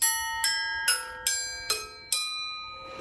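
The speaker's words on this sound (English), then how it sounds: "So you already heard the metal straw" A metal straw striking a metal utensil rings out six times in a steady sequence, each a bright, clear bell-like clang with a decaying shimmer, close and alone.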